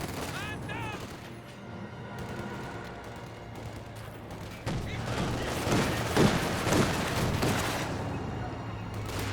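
Rifle volleys and scattered gunfire ring out in a Company of Heroes 2 battle, with bursts of shots growing denser and louder in the second half under a steady background rumble.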